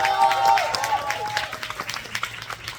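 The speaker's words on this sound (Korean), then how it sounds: "여러분들 뜨거운 박수 한 번씩 부탁드릴게요" A fan-meeting audience claps for a singer, the applause fading into scattered individual claps while a few voices and sustained tones linger briefly at the start.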